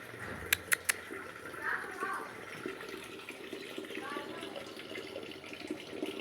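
Tap water splashing and running in a household sink as a cat plays in it, a steady wash of liquid with a few sharp splashes near the start, under a voice speaking.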